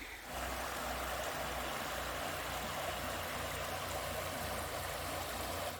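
Creek water flows in a steady, continuous broadband wash that holds even and fairly close for the whole stretch, with no voices over it.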